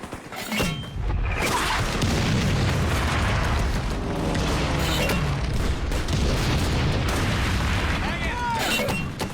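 Artillery fire and shell explosions from a World War II battle at Peleliu Airfield, a continuous roar of heavy booms and rumbling blasts after a brief quieter opening, with voices faintly mixed underneath.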